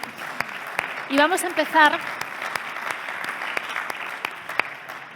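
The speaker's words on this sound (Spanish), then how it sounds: "Pido un aplauso para él, para que me acompañe aquí sobre este escenario." Conference audience at an AI summit session gives a short burst of applause welcoming a guest on stage, with someone talking over it and some cheerful vocal noise.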